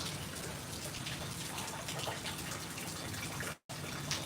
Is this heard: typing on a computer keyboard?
no